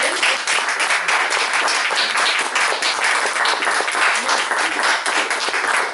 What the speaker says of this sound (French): une main d'applaudissement de Claudine